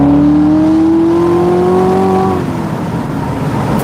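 A Corvette C7 Z06 engine drops a gear, a loud close tone sliding steadily upward then cutting off with a blip, leaving a rougher drone.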